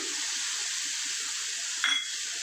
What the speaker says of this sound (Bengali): এবার আমি হলুদ আর কাশ্মীরি মির্চি যেটা জলে গুলে রেখেছি এটা দিয়ে দিলাম